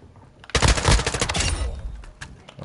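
Rapid bursts of automatic gunfire from a shooter video game crackle loudly in dense volleys for about a second, then trail into scattered, fainter shots.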